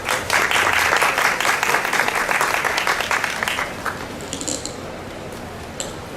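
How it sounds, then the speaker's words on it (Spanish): Audience applause greets the director of the National Assembly of Rectors' editorial fund at a book launch, dense clapping that holds steady for several seconds, then thins to a few scattered claps as the room quiets. "Recibámoslo, por favor, con un fuerte aplauso."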